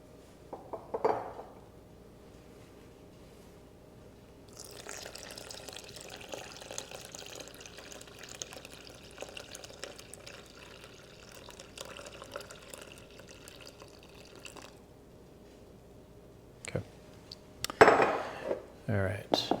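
Water runs in a steady stream into a mixing bowl for semolina bread dough. Brief clinks of kitchenware come before the pour and a louder clatter follows it.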